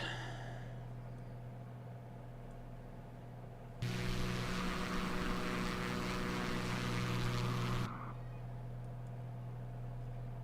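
A Beechcraft V35B single-engine propeller plane in flight, heard from inside the cabin as a steady, droning engine hum that swells into a louder broadband roar for a few seconds before settling back, with no talking.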